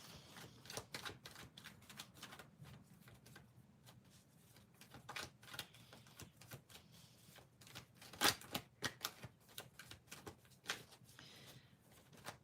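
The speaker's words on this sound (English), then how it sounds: "Let me shuffle these cards." Tarot cards are shuffled by hand in quiet bursts of crisp riffles and taps, stopping and starting irregularly with no talking.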